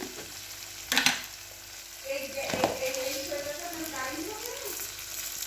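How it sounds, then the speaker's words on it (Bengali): Spices sauté with salt and sugar in a pan for a vegetarian banana-flower dish, giving a steady close sizzle with a few scraping stirs and clatters of the spoon. "চিনি দেবো দিয়ে একটু কষাতে থাকবো।"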